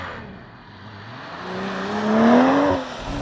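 A 2023 BMW Z4 M40i engine builds from a low drone into a rising, strained acceleration, pitch climbing steadily to a loud peak before easing off, heard close from inside the car.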